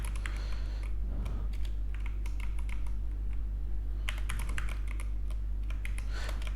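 Typing on a computer keyboard while coding, in two bursts of quick, close, clicky keystrokes separated by a pause, over a steady low electrical hum.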